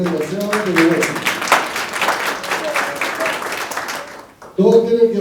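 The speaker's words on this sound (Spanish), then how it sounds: "así que recibe un fuerte aplauso, Pepe Pancho," Group applause during a student class presentation, moderate clapping under and between stretches of talking, fading out before a voice returns.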